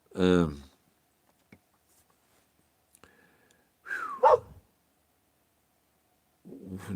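A dog barks a few times with pauses between, short sharp yelps standing out against a quiet background.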